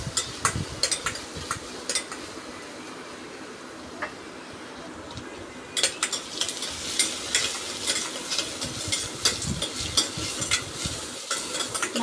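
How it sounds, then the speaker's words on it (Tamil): Onions frying in a pan for country chicken curry, stirred continuously. A close sizzle runs throughout, with repeated scraping and clinking of the spoon that grows busier and louder in the second half. No one speaks. "கை விடாமல் கிண்டினே இருங்க, அப்போ தான் நல்லா செவந்து வரும்"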